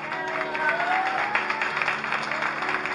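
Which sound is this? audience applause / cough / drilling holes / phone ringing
audience applause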